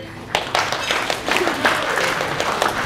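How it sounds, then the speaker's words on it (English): A crowd at an 80th birthday celebration claps for Joe, with applause swelling in after a quiet start, individual sharp claps standing out from the steady patter, and faint murmurs underneath. "Let's give Joe a big clap."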